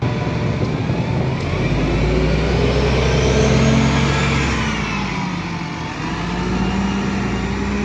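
A London bus engine, an old route 25 bus in the High Street, rumbles steadily in the near distance, its mid-pitched drone swelling and easing as it arrives and pulls up, with no talk over it.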